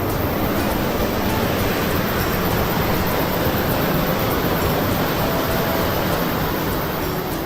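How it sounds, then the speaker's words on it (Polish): Huka Falls in New Zealand, where a river is forced from a wide bed into a narrow channel, sending a continuous, loud broadband roar of rushing water that stays steady throughout with no voices. "Wartki nurt wodospadu powstaje przez nagłe przewężenie koryta ze 100 do 15 metrów."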